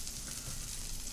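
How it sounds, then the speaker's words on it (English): Food sizzles on a Foreman grill in a steady, dense hiss that stays even and close for a short moment with no voices. "Wow, why is this one sizzling so much?"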